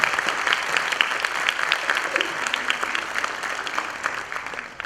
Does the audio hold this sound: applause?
yes